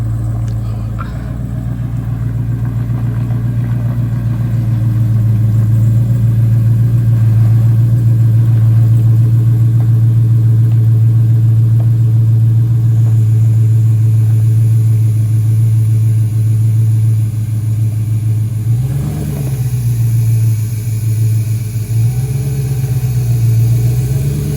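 A Jeep's engine runs loud and close at a steady idle with a deep low drone, briefly dipping and surging near the end while it is used to pop a tire bead off the rim.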